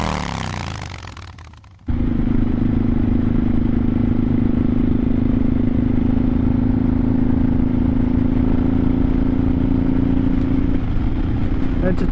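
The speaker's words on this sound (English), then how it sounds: "listen to the sound of my 1986 Honda Shadow as we cruise through Southwest Springfield." A 1986 Honda Shadow 700 (VT700C) V-twin cruiser rolls along rural roads, its engine a steady, loud, low rumble that holds an even drone after a brief windy start.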